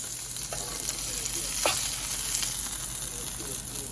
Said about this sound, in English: Gonna grill these for about a minute on that griddle top.